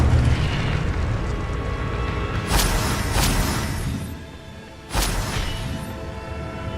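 An Incendio fire spell blasts in Hogwarts Legacy, a loud fiery burst followed by rumbling roars and a second sharp impact, heard alone without speech.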